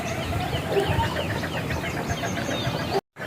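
Several chickens cluck and chatter steadily in a rural village yard where grain has been scattered, a continuous close flock sound that cuts briefly to silence near the end.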